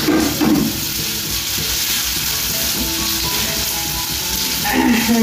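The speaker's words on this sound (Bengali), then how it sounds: "এই যে মাংসটা এখানে দিয়ে দেওয়া হচ্ছে।" Pieces of meat dropped into hot oil in a pan, where potatoes were fried first, set off a loud, dense, continuous sizzle with bursts of clatter at the start and end, close up, with no talk.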